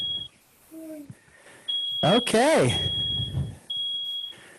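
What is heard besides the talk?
smoke alarm beeping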